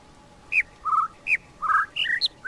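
A voice imitates bird chirping with a quick series of about nine short, high, whistly chirps and squawks in uneven rhythm, heard alone and fairly close.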